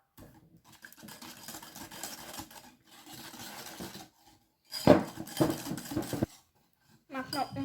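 Brownie batter with butter and eggs is stirred in a bowl, making scraping and clattering utensil bursts that come and go, with a voice speaking between them.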